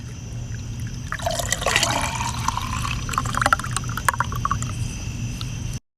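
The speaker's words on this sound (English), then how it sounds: "And then you pour your milk in." Milk pours into a glass for a Nutella drink, a continuous trickling, gurgling stream that rises in pitch as the glass fills, close and alone, then cuts off abruptly.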